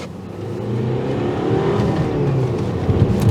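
A Honda Accord Euro CN1 diesel engine revs steadily with a low, gruff growl, climbing slightly in pitch and holding loud and close throughout.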